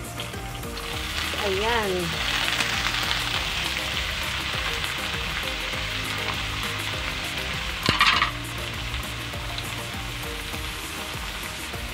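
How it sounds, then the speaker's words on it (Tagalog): Boiled chicken liver and gizzards sautéing in a pan for Filipino adobo: a continuous close sizzle with occasional stirring, a brief sharp clatter near the end, and a voice speaking briefly over the cooking. "Sunod na yung atay at balunan. Pinakuluan ko na ito bago igisa."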